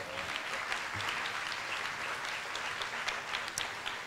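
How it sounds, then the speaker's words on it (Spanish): An audience at an in-person lecture claps steadily and fairly loudly, a dense wash of applause holding throughout without voices standing out. "Un aplauso para mi mujer"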